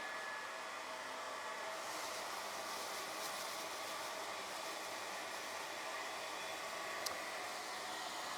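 Hairdryer blowing air indoors into a big plastic bag, a steady faint whooshing hiss that runs unbroken throughout with no voices.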